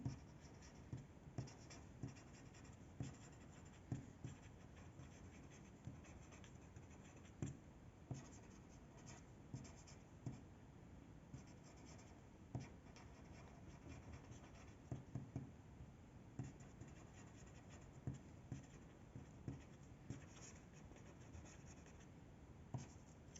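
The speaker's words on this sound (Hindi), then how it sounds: "मैं आपको फटाफट लिख देती हूँ" Pen writing notes by hand, a steady run of scratchy strokes with small taps between words, close and fairly quiet, with no talk over it.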